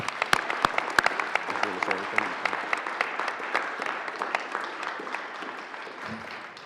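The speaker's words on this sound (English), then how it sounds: "Please join me in giving them a round of applause." Applause rings through the Colorado Senate chamber, a dense burst of clapping that gradually thins and fades, with voices murmuring underneath.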